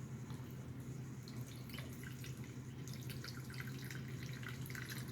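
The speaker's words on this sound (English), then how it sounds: "We're going to pour the water in here." Water is poured into a Soliom BF10 smart hummingbird feeder, a faint, soft trickle with light dripping over a low steady hum, quiet and close.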